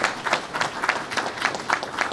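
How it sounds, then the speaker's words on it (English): An audience at a park fieldhouse announcement claps steadily together, with dense close clapping and no speech over it. "Please give her a warm round of applause"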